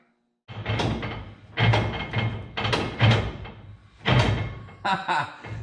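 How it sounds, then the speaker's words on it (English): A NASCAR locker in a street-legal car ratchets with the car not running, giving a series of about five loud, close clunking clacks spaced roughly a second apart, with some talking near the end. "It's like a click, clack from the ratchet, and it is loud."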